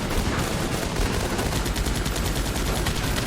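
Dense, continuous gunfire and bursts of automatic fire from the video game Guns Up, a loud, steady barrage of rapid shots with no pauses and no talking.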